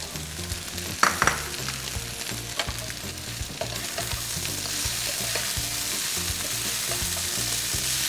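Nasi goreng fried rice stir-fried in a pan with cashews among the ingredients, a steady close sizzle and hiss with repeated scraping and tossing of the spatula against the pan throughout, no talking.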